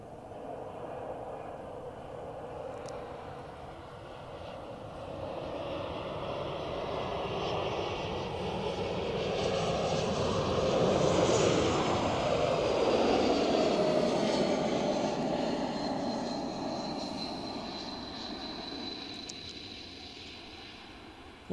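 A Swiss narrow-body airliner lands at Zurich Airport, its engine roar swelling from a distance to a loud peak and then fading, with a whining jet tone drawn out across the approach and touchdown.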